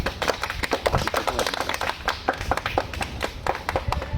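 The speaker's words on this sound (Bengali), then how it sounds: "পুরা বানাটা তালি মারো তোমরা" Crowd of onlookers at a street-side magic trick clapping along, a burst of quick uneven hand claps that carries on steadily at close range, with people talking over it.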